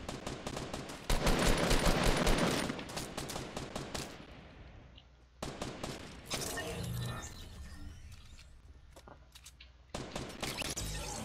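Bursts of automatic gunfire from a BM4 in a shooter video game, loud dense volleys separated by quieter gaps and scattered single shots, with a closing burst near the end.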